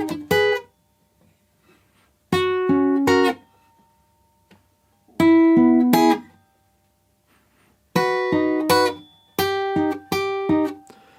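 Short bright guitar phrases from the verse of a song ring out in separate bursts of a few plucked notes, each followed by silent rests, close and clear with no talking.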